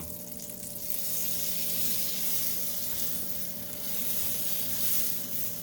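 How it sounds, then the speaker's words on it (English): Butter sizzles steadily in a hot pan, a continuous crackling hiss that stays close and fairly loud throughout with no talking. "in a frying pan, I'm gonna go ahead and apply a little bit of butter"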